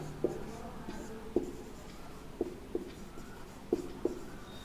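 Pen or pencil writing numbers by hand on paper gives soft, faint scratching with a few sharp taps as digits are formed, spaced irregularly across a quiet background.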